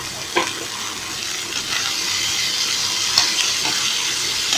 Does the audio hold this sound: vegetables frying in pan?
yes